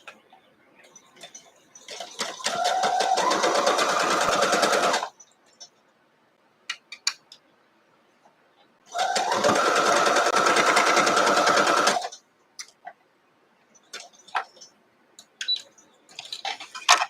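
A sewing machine runs two steady bursts of about three seconds each while stitching a 1/4 inch quilt seam on a gift box bow block. Quiet handling clicks fall between the bursts.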